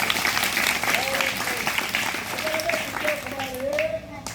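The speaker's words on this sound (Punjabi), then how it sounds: "ਤਾੜੀਆਂ ਲਾਓ ਬੇਟੀ ਵਾਸਤੇ" Audience applause at an outdoor street play about saving water, a dense patter of clapping that carries on for several seconds and thins toward the end, with a voice speaking over it.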